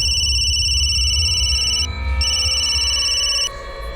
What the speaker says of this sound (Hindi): तो उसके भाई गौतम को फोन किया मैंने।